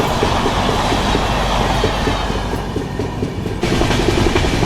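The 12840 Chennai–Howrah Mail superfast express under way, a loud, steady rumble with rhythmic clickety-clack of wheels on rail joints from inside the train, briefly dipping before surging again.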